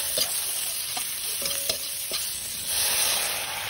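Tofu and fish sautéing in a pan with a utensil stirring through it, a steady sizzle carrying a few light metallic scrapes and taps, close and without talk.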